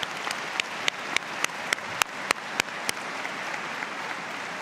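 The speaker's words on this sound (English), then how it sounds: "Graduates, may I ask you to join me in a round of applause for MRU's faculty and staff." Applause at a university spring convocation for faculty and staff, a soft bed of clapping from the audience cut by a run of sharp, evenly spaced claps that fade out toward the end.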